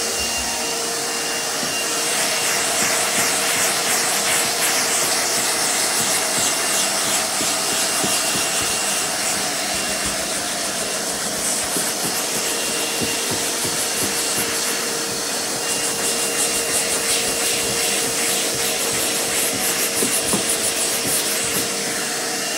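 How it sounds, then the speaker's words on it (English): A shop vacuum roars steadily at close range for the whole stretch, a loud constant whooshing drone with no one speaking, used on a Land Rover Discovery 2 TD5 headliner job. "this is a shop vac"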